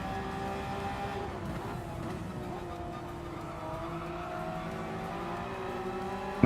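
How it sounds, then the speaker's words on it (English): A Honda NSX race car engine in Gran Turismo 7 drones and revs at steady high pitch, shifting tone as it accelerates with faint tire squeal, held continuously under game audio. "Nice sound coming from the NSX."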